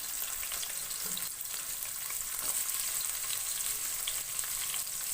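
Onions and garlic fry in a few teaspoons of hot oil in a home kitchen, giving a continuous even sizzle and crackle at moderate level, close by, with no voices.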